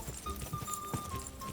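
Horse hooves clip-clop at a steady, even gait in Kingdom Come: Deliverance II, close and fairly loud, with faint game ambience and a high tone running underneath.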